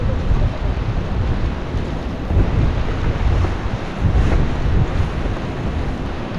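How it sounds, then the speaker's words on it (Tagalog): Strong wind buffets the microphone at a seashore campsite in Casiguran, Aurora Province, a loud continuous low rumble with gusty swells and no voices. "Kahit naramdam ang lakas ng hangin"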